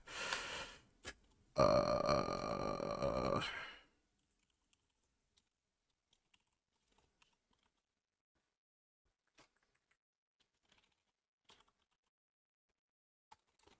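Computer keyboard keys pressed in combinations during a DCS World MiG-31 flight sim session: a short burst of dense activity near the start, then a few sparse, faint clicks scattered through long quiet.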